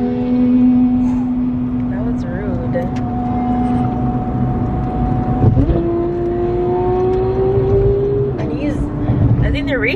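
Cars racing past on a road, with a steady loud engine drone and rising revving pitch shifts, heard close under a noisy outdoor background with little clear speech.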